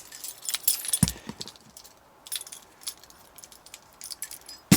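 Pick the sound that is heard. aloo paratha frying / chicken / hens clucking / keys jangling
keys jangling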